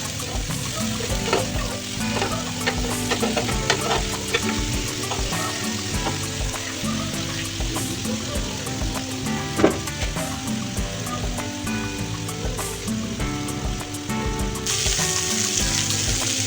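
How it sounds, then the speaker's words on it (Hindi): Chicken malai kebabs fry in oil and butter over a low flame, giving a continuous close sizzle and crackle with scattered pops and the occasional scrape of stirring. "हल्की आंच पर आपने सारे कबाबों को इस तरह तल लेना है"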